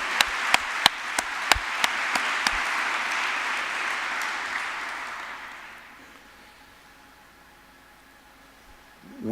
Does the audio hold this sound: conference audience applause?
yes